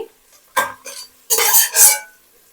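A spoon stirs cooked, softened onions in a pan, giving a few short scraping bursts with pauses between them, fairly close and with no talking.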